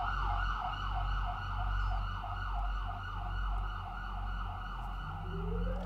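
Emergency vehicle sirens wail steadily outside a health center, a continuous rising-and-falling tone heard at a moderate distance over low traffic rumble, with a second pitch sweeping up near the end.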